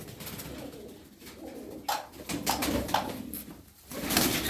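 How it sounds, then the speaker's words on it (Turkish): Pigeons, including a white male and a female, coo in repeated soft throaty calls at close range over a faint background hum, with one louder cluster of coos near the end. "On sekiz tane kuş var."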